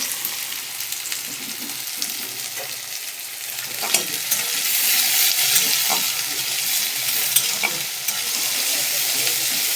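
Onions fry in oil in a pan until browned, after other ingredients were fried in the same oil: a loud, continuous sizzle close by, with occasional clinks and scrapes of stirring and no talk.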